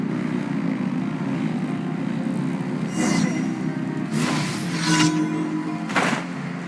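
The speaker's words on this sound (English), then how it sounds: "Rev the engines!" Engines revving in a Genshin Impact cutscene: a steady low propeller-like engine drone holds throughout, with a few brief whooshing bursts rising over it, and no voices.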